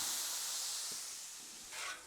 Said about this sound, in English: Now while the griddle is still hot, throw some water on it,